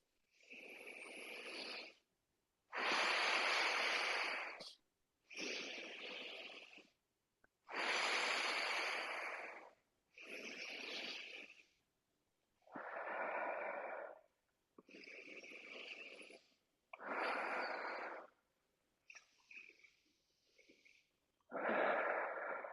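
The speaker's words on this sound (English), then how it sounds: "Now, 10 Bastrika. Powerful inhales and exhales." Bhastrika breathing: a run of about ten forceful, rhythmic breaths, alternating powerful nasal inhales and exhales, close and loud with brief gaps between them.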